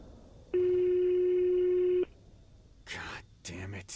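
A steady telephone ring tone sounds for about a second and a half on a call in The Greyhill Incident, and voices follow shortly after.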